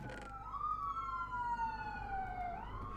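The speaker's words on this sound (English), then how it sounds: "Oh, we got some sirens." Police sirens pass outside near a road, a steady wailing tone sweeping up and down over a low traffic rumble, moderately distant and heard alone.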